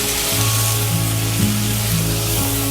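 Okra and brinjal frying in a pan, a steady close sizzle running through the whole stretch with no voices, a low tonal hum sitting beneath the crackle.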